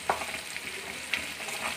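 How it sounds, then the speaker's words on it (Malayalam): Masala gravy for pickles, made with salted sautéed gooseberry, bubbles and sizzles in a pan, a soft steady frying hiss with a few brief bursts of spattering, close and alone. "ഈ സ്റ്റേജിൽ നമ്മുടെ മസാല ഗ്രേവി നന്നായിട്ട് തിളച്ച് വരുന്നുണ്ട്"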